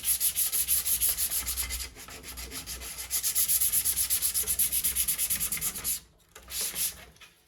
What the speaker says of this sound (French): Alors, on va vraiment venir poncer toute la partie.